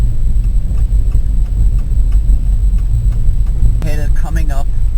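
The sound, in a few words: car driving uphill on snow with snow rope on tyres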